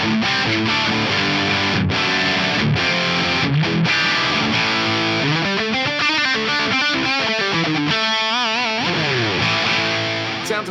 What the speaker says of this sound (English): let's hear the Hot Rod 50 Plus again